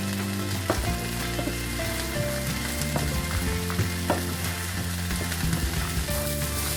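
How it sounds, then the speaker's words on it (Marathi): Grated coconut roasts in oil in a pan for an onion-coconut Malvani masala paste, a steady close sizzle and crackle with scraping and stirring clatter throughout. "थोडं तेल टाकून घेऊ म्हणजे ते छान भाजलं जाईल सगळं।"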